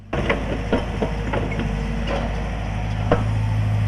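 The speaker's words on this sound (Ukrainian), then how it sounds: "Працює один навантажувач, а поруч у черзі вишукувались фури." A wheel loader works at a garbage dump, its heavy diesel engine rumbling low and steady close by, with repeated clanks and knocks from the machine over the drone. It is loud and there is no talk.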